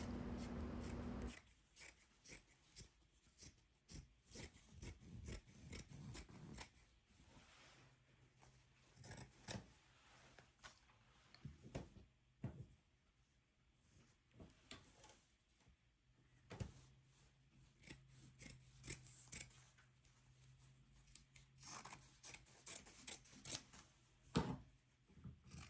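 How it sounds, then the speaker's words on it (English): Scissors trim excess cotton fabric from a holiday stocking, with sharp irregular snips and crisp clicks scattered in quick bursts between quiet pauses, close and fairly soft. "I'm now removing some of the excess fabric."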